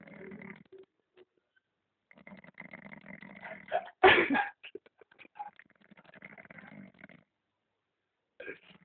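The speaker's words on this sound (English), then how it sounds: "That is a grown man snoring." Slow, rasping snores from a nearby sleeper, each long breath rumbling, with a sharper snort in the middle and quiet pauses between.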